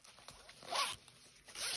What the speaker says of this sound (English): And then in the front zipper, I just closed it.